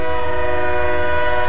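A tram in Santos, Brazil, newly joining a living tram museum, sounds a loud sustained horn close by over its running rumble, with no talk.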